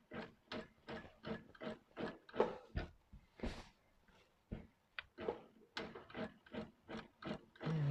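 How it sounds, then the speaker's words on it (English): A longarm quilting machine with loosened tension sews half-inch basting stitches while a quilt binding is finished, making a quiet, regular mechanical thumping of evenly spaced needle strokes with one brief pause midway. "I'm just going to do some 1/2 inch basting stitches."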